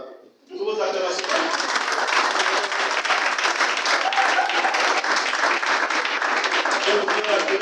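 An audience at a formal launch event of the Gabonese teachers' network breaks into applause, a dense, loud sustained clapping that swells in quickly and carries on evenly, with a voice faintly over it.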